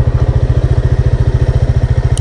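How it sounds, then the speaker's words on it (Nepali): Motorcycle ridden by school boys near a house in rural Khotang, Nepal: a steady, rapid pulsing engine putter that stays close and loud for the whole stretch with no talk. "बाइक हाँक्दैछ"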